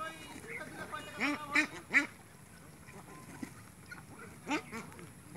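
Pekin ducks on a duck farm in a village in Chatmohar, Pabna, Bangladesh, with a quick run of three nasal quacks, a pause, then another quack, moderately close over quiet background hiss.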